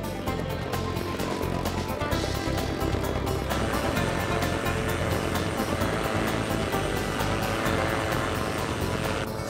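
Small cartoon propeller plane drones steadily overhead, a loud continuous buzzing engine hum that holds for nearly ten seconds without pause, with no voices on top.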